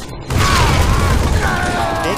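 A grenade goes off in a video game, a sudden loud blast after a brief quiet moment, followed by a rumbling, rattling aftermath with some chatter and whining tones underneath.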